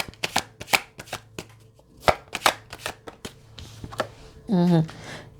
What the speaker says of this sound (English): Okay, so let's pull some cards in these.